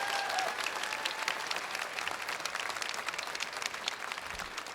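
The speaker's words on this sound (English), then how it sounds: "Another round of applause for Frank and everybody up here on the dais." Audience applause at a Tunnel to Towers event in Charlotte honoring fallen first responders, a continuous crowd clapping heard from a distance.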